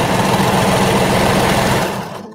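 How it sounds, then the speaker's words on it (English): A sewing machine runs in one continuous, loud, close whir as it stitches fabric right up against the V seam of a bralette, then winds down at the end. "I'm going to sew right up close to it and then kind of push this fabric out of the way"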